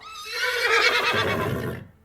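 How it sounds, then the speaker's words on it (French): A mare gives one long, anxious, quavering whinny, loud and close, rising and then fading out after about two seconds, with no other sounds or talk. "réagit à la voix familière en poussant des hennissements inquiets"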